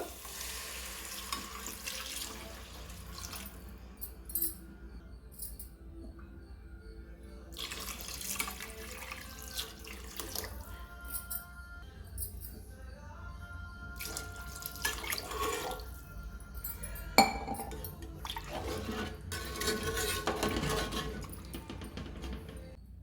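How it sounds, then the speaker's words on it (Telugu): Three glassfuls of water pour into a pot of rice being readied for egg biryani, a steady splashing gush in bursts with pauses between, close and fairly loud, with kitchen clatter in the gaps. "ఆ గ్లాస్తో మూడు గ్లాసులు నీళ్లు పోస్తున్నానండి వాటరు"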